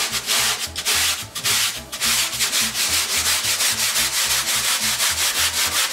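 The scrubby side of a sponge is worked over a surface in a steady, rhythmic back-and-forth rub, close and fairly loud, with each stroke giving a coarse, sanding-like scrape and no talking.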